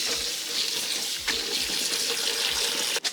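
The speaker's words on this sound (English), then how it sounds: "Let's get all the water out because nobody wants soggy noodles." Water pours and splashes steadily into a sink as cooked noodles are drained, a continuous rushing stream with a brief clatter near the end.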